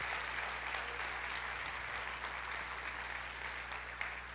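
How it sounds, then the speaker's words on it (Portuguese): A church congregation applauds, a steady, dense patter of many hands clapping at moderate distance, continuous throughout with a low hum beneath and no talk over it. "pode aplaudir o Senhor"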